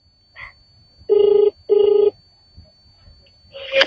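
A phone rings twice in two even bursts, slightly tinny as if through a speaker, followed by a short electronic blip.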